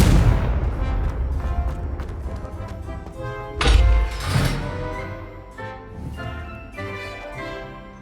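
A Confringo blasting spell in Hogwarts Legacy fires off booming explosions, with a heavy thud near the middle and rumbling impacts that trail away under game music.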